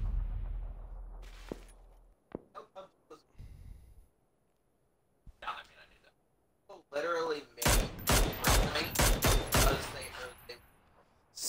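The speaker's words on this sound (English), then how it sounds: "Space your shots out a little bit more" Gunfire in the PUBG video game on Xbox One S: scattered sharp shots early, then dense bursts of rapid fire toward the end, with players talking over parts of it.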